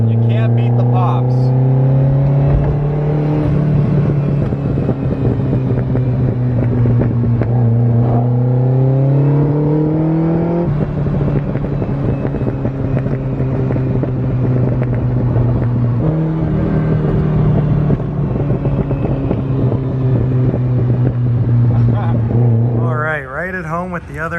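A barn-find Ferrari 308 GTB engine revs hard and close in several rising and falling pulls, with exhaust pops crackling between them, loud and sustained with a voice faintly beneath.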